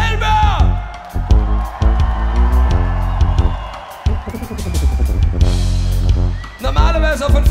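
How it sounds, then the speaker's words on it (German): A crowd at a brass music festival show applauds and cheers loudly. Whoops and voices are mixed with bursts of band sound, and the noise swells and dips several times. "muss ich einen fetten Applaus für euch selber"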